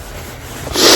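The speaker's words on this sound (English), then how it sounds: "Ooh, child, sniffles." A person sniffles once, a short, sharp intake through the nose close to the microphone near the end, after a moment of quiet background.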